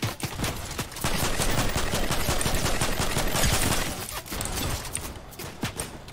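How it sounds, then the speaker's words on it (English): Dense bursts of gunfire crackle through a Fortnite match, with rapid overlapping shots and sharp cracks running almost continuously and loudly, with no talk. "You're being shot and you're just gonna do nothing."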